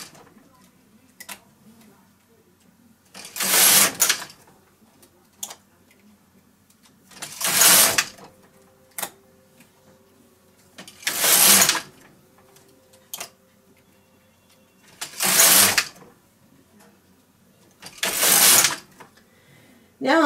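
Knitting machine carriage making five loud rasping passes across slipper rows, each a roughly second-long sweep spaced several seconds apart, with faint clicks and ticks in between and occasional soft speech.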